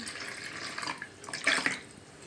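Water poured into a bowl of sweet pancake batter, a soft, brief splashing trickle close by that swells in the middle.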